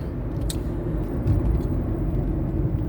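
A car being driven on a sunny day, a steady low road rumble and engine drone from inside the cabin with a brief click or tick early on, continuous and fairly even, no voices.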